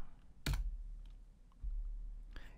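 A key press on a computer keyboard, likely Enter, during a command-line session in WSL on Windows: two or three soft clicks spaced over a couple of seconds, close and clear against a quiet room hum with no talking.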